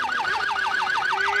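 A police car siren wails in a fast, steady yelp cycle, loud and close, with a faint engine drone beneath, heard during a chase of a Honda CB1000 motorcycle.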